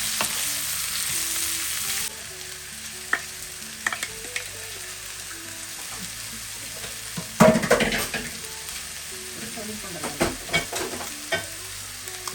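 Sliced onions sizzle in hot oil for chicken biryani, a soft, steady frying hiss broken by several sharper scrapes and clatters of stirring, close by with no talking.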